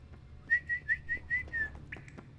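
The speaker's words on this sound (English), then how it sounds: "I need to change my whistle tune, actually." Geralt whistles for his horse in The Witcher 3, a clear tune of six short rising-and-falling notes followed by a brief trailing tone, heard alone over a low game-ambience hum.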